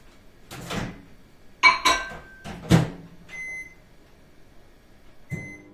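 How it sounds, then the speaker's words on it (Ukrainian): Several clunks of a small door opening and shutting, then a few short electronic beeps from a microwave nearby, with quiet gaps between. "Зараз це все. в мікрохвильову піч"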